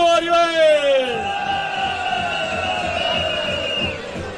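Young men in a Romanian winter custom from Deleni shout long, drawn-out whoops together. The loud, close group cry holds for several seconds before fading out.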